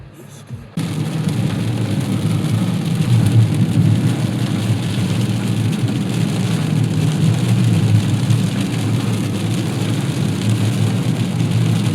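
Heavy rain pours down where a car is parked charging, a loud, dense, steady roar of drops hitting surfaces that starts abruptly after a brief quiet moment and continues without letup, close and enveloping.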